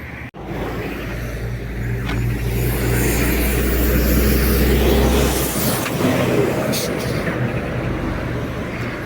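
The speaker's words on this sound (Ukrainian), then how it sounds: "Транспорту багато тут їде, показую вам. Тому шум такий, машини гудуть." Steady, loud hum of road traffic near a lakeside beach outside Warsaw, cars droning past continuously, a low rumbling wash of engines that swells and fades slightly over several seconds.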